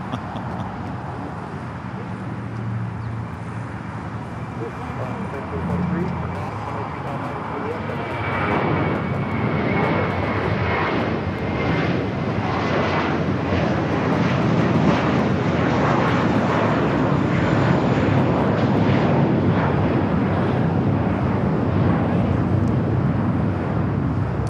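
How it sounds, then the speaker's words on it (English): Airbus A321 flight 624 to JFK taking off at Los Angeles International Airport, a jet roar swelling from a low hum into a loud, sustained rush of engine noise with wind buffeting the microphone. "Next takeoff is a flight heading to JFK, flight 624. It's an A321."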